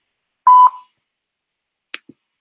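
An electronic voicemail tone on a phone call: one clear steady beep, loud and close, followed by a short silence and two faint clicks.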